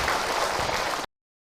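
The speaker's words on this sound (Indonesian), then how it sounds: "Tepuk tangan buat Bunda yang bertanya" Brief burst of audience applause at a religious talk on neighbours, dense clapping lasting about a second before cutting off abruptly.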